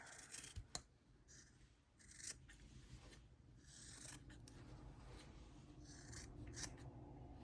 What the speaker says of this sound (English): Now we're gonna cut.